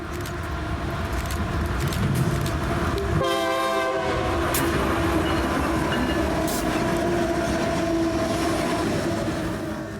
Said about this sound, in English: Here's an eastbound vehicle train rolling through Mulvane as the storm settles in.